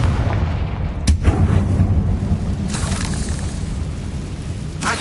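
A Confringo fire spell in the Hogwarts Legacy game bursts into loud booming explosions, with a sharp blast followed by rumbling impacts and another hit near the end.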